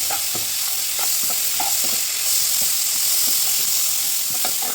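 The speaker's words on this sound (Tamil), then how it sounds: "பூண்டையும் சேர்த்து நல்லா வதக்குங்க." Onions and garlic sauté in a pan for a home-style garlic chutney. A continuous sizzle runs throughout, broken by frequent light taps and scrapes from stirring. No voices are heard.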